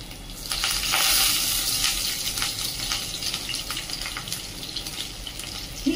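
Ginger and curry leaves sizzle steadily in a hot pan, a bright continuous frying hiss with faint stirring clicks, close and alone.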